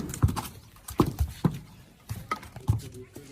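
Horse hooves clip-clopping close by on hard ground while the animal is tied up, several irregular thuds in loose rhythm, with faint background voices.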